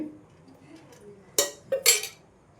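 A metal kadai is set down on a stove for egg fried rice, giving a few close, sharp metallic clanks in quick succession over a quiet kitchen background.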